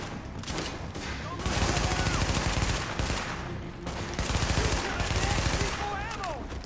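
Sustained gunfire in The Division during a firefight, dense loud bursts rolling on and off over several seconds, with game effects mixed in.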